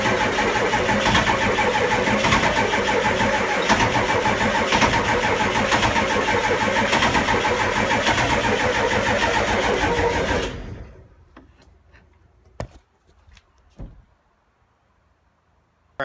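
A nitro glow-plug model engine runs at a loud, steady high-pitched buzz close by, then cuts out abruptly about two-thirds through, leaving near silence broken by a few faint clicks and knocks.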